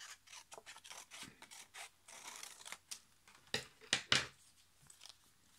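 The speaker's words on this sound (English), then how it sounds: "Then get my scissors" Quiet rasping snips and rubbing, a series of short cuts that grow louder near the end, as scissors slice through paper for a collage.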